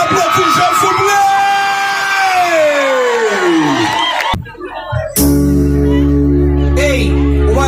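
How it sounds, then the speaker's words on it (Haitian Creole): A lively crowd at a children's foundation event in Haiti cheers and shouts for a child called Job, with loud overlapping voices that surge, drop out briefly, then return strongly. "On applaudit Job, s'il vous plaît"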